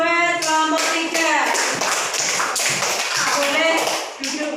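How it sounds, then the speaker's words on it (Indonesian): Primary-school classroom at an Islamic elementary school, the class clapping for group three: dense, close claps and taps mixed with children's voices chattering and calling out over them. "Kita kasih tepuk tangan buat kelompok tiga."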